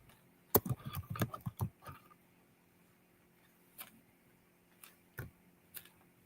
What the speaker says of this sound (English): Super producer is typing.